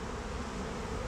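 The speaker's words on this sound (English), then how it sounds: "I'm working with bees" A swarm of honey bees from a broken-up hive buzzes steadily and densely all around, a continuous close drone with no voices.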